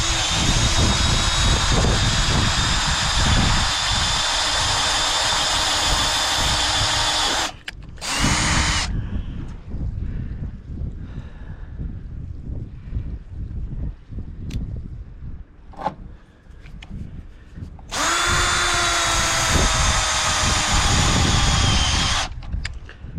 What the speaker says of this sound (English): Let's get a newer self-tapper now. Let's see if slowing the speed down helps a little bit.